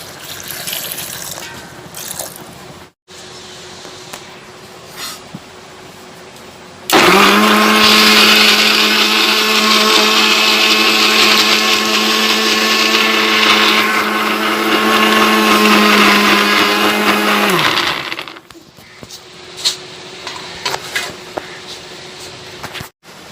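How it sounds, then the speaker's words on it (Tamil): Mixer grinder blending amla gooseberries with a glass of water into juice, a loud steady whirring roar lasting about ten seconds, with quieter kitchen sounds before and after. "அதை போட்டு நல்லா மையாக அரைச்சிக்கணும்."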